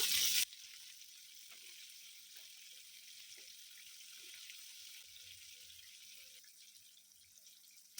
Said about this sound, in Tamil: கோல்டனாக ஃப்ரை பண்ணி எடுத்துக்கலாம்.